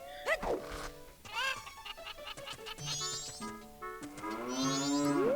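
Video game cow mooing on a ranch in Majora's Mask, several drawn-out, slightly tonal moos at moderate loudness with a few short bleat-like calls between them, no talking.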